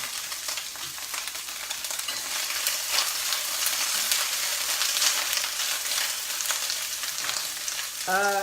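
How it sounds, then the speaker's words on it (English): Loud, constant sizzling and crackling of wet celery frying in hot oil, with occasional pops throughout. "you hear that loud sizzling? That's because there was too much water on the celery"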